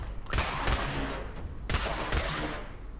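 Rapid gunfire bursts from a weapon in the video game Fallout Shelter: two loud, crackling volleys of shots, close and dense, with no talking over them.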